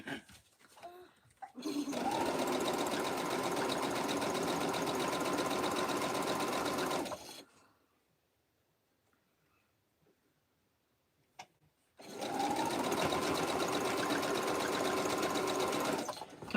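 A sewing machine stitches rag quilt blocks in two long, steady bursts of loud, continuous whirring, separated by a few seconds of near silence with faint thumps.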